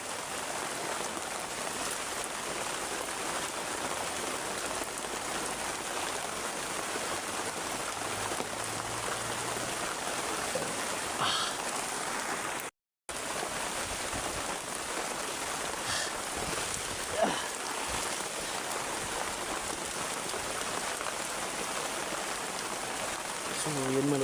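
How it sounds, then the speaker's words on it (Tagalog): Heavy rain falls steadily on a mountainside outdoors, a constant dense hiss of drops with a brief dropout midway and no break in the downpour. "Sobrang ulan. Parang ayaw tumigil."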